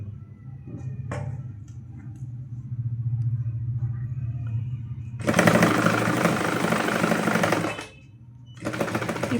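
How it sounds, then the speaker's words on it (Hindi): A sewing machine runs along the edge of a garment neckline in two loud, close bursts of steady whirring stitching, a longer run followed by a short one, after a quieter stretch of low rumble and light handling. "इसके किनारे किनारे पे हमने सिलाई लगानी है।"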